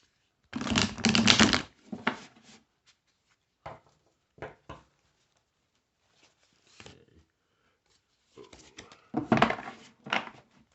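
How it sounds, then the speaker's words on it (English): Several short bursts of tarot cards being shuffled and riffled, with quiet taps and rustles between them and no voices. "let me just shuffle up a little bit better"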